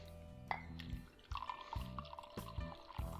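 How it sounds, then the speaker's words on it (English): Tea poured into a cup, giving a soft, close trickle and drips in several short bursts with small splashes between them, quiet throughout and with no talk. "Pour myself another tea."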